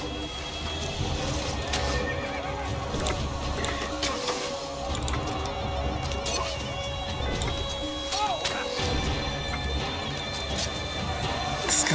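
A horse in the Assassin's Creed video game neighs and whinnies repeatedly over a dense, steady game soundscape with hoofbeats and background noise throughout.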